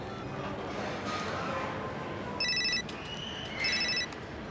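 A telephone ringtone sounds from a placed call: two short bursts of bright electronic tones in the latter half, over a busy background, with faint voices around.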